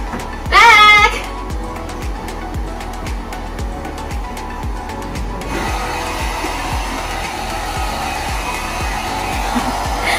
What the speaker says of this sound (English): so now we're gonna blower my hair